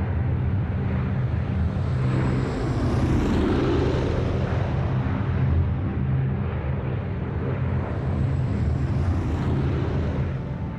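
A B-17 Flying Fortress bomber's engines drone loud and steady as the aircraft climbs for altitude, a continuous heavy roar with rushing wind and no pauses or voices.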